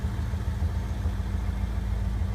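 A 1991 C4 Corvette engine runs at a steady idle with the hood closed, a low, even rumble heard close and alone for a couple of seconds.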